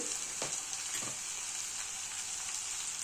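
Brinjal chutney mixture sautés in a pan, a soft continuous sizzle and fry with a couple of brief stirring scrapes, fairly quiet and without speech.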